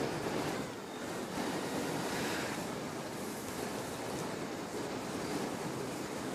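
Strong wind buffets the microphone at Christchurch Airport, a steady loud roar of gusting noise with no voices, rushing on and on like surf for the whole stretch.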